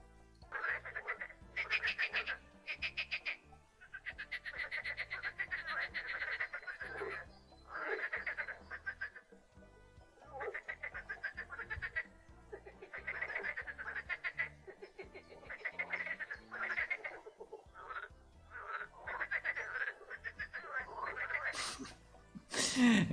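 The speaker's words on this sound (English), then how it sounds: "So in this area, you will not see the frogs for now, but you will hear the frogs." Frogs croak continuously in a swampy area of an Unreal Engine MMO video game, dense rhythmic bursts of croaking repeating in overlapping clusters at a steady, moderate level.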